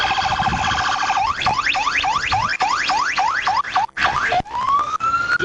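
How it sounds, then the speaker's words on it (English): A police siren wails loudly nearby in rapid rising yelps, then cuts out in bursts and shifts to a steady tone before stopping. "Let me turn my siren off"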